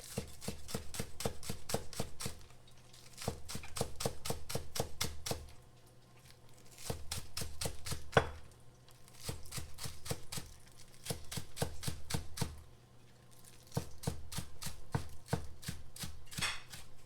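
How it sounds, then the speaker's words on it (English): Knife chopping small, pre-washed onion on a board for a stir-fry: quick, steady strokes in bursts of a few seconds, separated by short pauses, close and fairly loud with no talking. "Now we will cut some little onion already washed."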